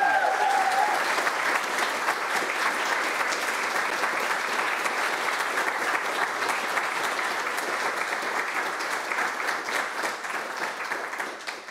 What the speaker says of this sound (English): So we need a round of applause because that's a lot of work.